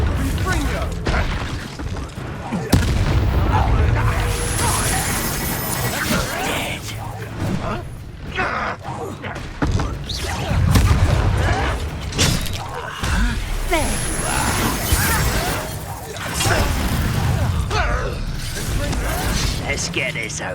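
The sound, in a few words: Confringo fire spell blasts in the video game Hogwarts Legacy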